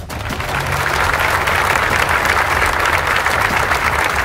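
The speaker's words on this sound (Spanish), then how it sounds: "Se le da el aplauso a Dios primeramente" A crowd of inmates at a prison prayer service in El Salvador claps in a dense, sustained burst of applause that swells in and holds steady.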